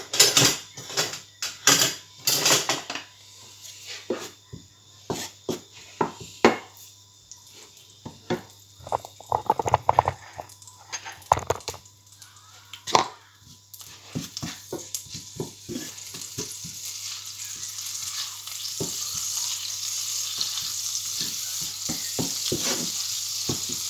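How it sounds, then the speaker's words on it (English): Crushed garlic frying in butter in a pan, a constant close sizzle with frequent sharp clinks and scrapes of a utensil stirring against the pan. "Rest of that butter, 10 grams of butter. Clove of garlic crushed up going in there."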